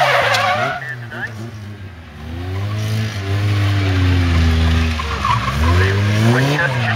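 Car in a motorsport autotest skidding and revving hard, tyres squealing while the engine note climbs and falls in repeated sweeps, loud and close, with a voice briefly heard near the start.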